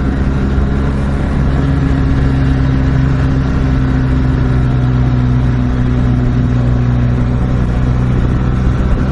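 A 2016 BMW R 1200 GS Adventure motorcycle engine on the Laguna Seca track, a loud, steady, close engine drone with strong low rumble and wind roar sustained throughout.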